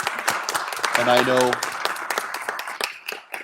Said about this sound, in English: So if you'll join me in giving an applause to our team.